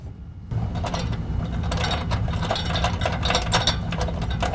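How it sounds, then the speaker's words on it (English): A ratchet wrench clicks in quick, steady strokes while upper bolts are driven into Havoc HS2 nerf bar brackets on a 2011 GMC Sierra 1500. The ratcheting is close and continuous with no talking. "I'm going to go ahead and install the front upper and the rear upper bolt"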